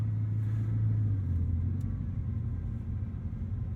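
A Bugatti Chiron Super Sport pulls away gently in drive, its deep low rumble steady and smooth, easing slightly after the first second. No one speaks.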